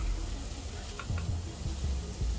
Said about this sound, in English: Let's hit that with a little bit of fresh melted butter